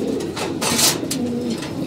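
Pigeons cooing close by in cold weather, low soft repeated coos over a steady background hiss.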